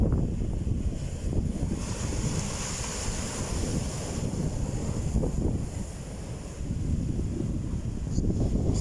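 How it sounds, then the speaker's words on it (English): Strong wind gusts across open water during fishing, a constant loud roaring buffet on the microphone with waves washing underneath, rising and easing slightly but never letting up. "It's getting windier by the hour"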